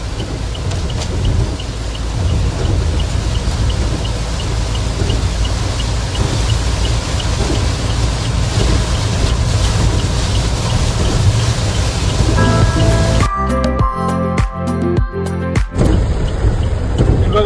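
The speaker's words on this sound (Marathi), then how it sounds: "काय पाऊस आहे इथे काय पाऊस आहे" Heavy rain pours steadily in a dense, continuous hiss on the Goa–Mumbai road near the border, then breaks up into choppier bursts near the end.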